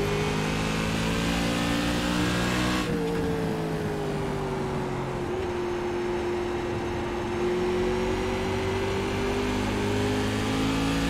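A Silver Crown race car engine at Richmond Raceway in iRacing drones steadily on throttle. A loud, sustained buzz hangs at one pitch, dips slightly after a shift in tone, then climbs gradually along the straightaway.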